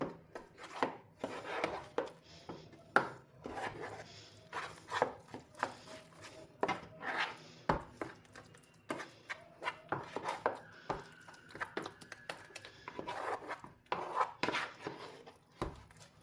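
A spoon stirs two spoonfuls of flour into an oil-free potato mixture in a bowl. The close, quiet scraping and tapping strokes come in a steady, uneven rhythm, with no talking.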